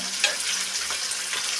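Chicken pieces frying in a pan with onion and tomato, a steady crackling sizzle with brief stirring scrapes, close and fairly quiet.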